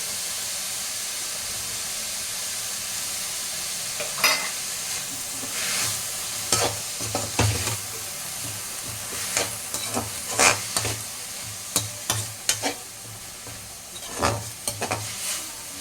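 Ginger garlic paste frying and being stirred in a pan for a crab gravy, with a steady sizzle and scattered scraping stirs and clinks of the spoon against the pan, close and fairly loud.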